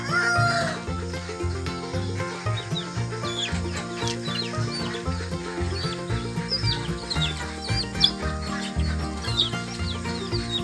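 Backyard native chickens and young chicks in a farm setup cluck and chatter steadily, with scattered peeps, a rooster crow and faint rustling amid other livestock sounds.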